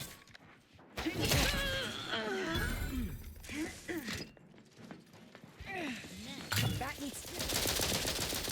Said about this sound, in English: Who the hell is shooting that?